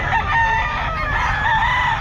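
A pumpkin sweater gamefowl rooster crows loudly and up close at a Bocaue pet market, one sustained call filling the short moment.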